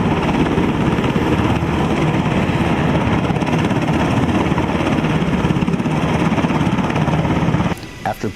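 A US Army assault helicopter from an assault helicopter battalion flies during live-fire training, its loud steady rotor and engine roar continuous and close before dropping away abruptly near the end.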